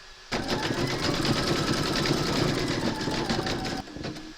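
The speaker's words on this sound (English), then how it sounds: "Load your thread colour for the bunny's nose into your machine, and then stitch round number 5." An embroidery sewing machine stitches the nose on an in-the-hoop bunny slipper, starting abruptly and running in a steady, loud mechanical chatter for about three and a half seconds before stopping.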